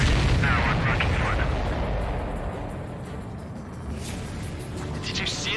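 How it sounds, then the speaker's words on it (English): Heavy explosions and rumbling fire during an aerial combat mission in the Ace Combat 7 jet fighter game, a loud continuous low roar with booming bursts throughout, fading slightly midway, with talk in the background. "Did you see that explosion?"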